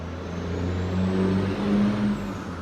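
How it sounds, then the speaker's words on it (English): A loud truck rumbles past on a road being paved, its heavy low engine drone steady and close for a few seconds with no one talking over it. "loud truck running by."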